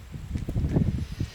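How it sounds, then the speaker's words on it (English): Wind blows outdoors in low rumbling gusts buffeting the microphone, a short, fairly close burst of uneven whooshing with no talk. "Wind is picking up."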